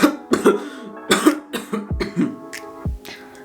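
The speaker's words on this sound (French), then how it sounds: "Le gars qui tousse." A man coughs repeatedly in a series of harsh, close bursts, some sharp and some throaty, with no talking.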